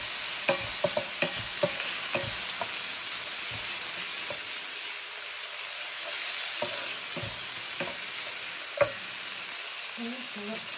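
Bacon fries in a pan with a steady, close sizzle and hiss, broken by soft scrapes and taps of stirring, with no voices.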